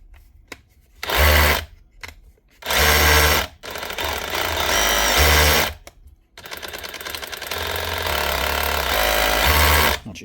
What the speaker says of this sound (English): This is the Dewalt SDS drill.